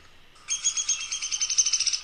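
A downy woodpecker calls in a rapid, even run of high chirping notes close by, starting abruptly after a quiet moment and continuing steadily.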